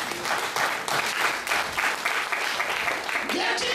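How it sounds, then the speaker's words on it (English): An audience at a religious convention applauds with steady, dense clapping throughout, and voices can be heard over the applause. "Clap for them."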